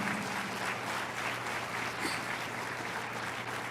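Steady, dense applause from a church congregation praising the Lord during a Spanish-language sermon, a continuous wash of clapping at a moderate distance throughout.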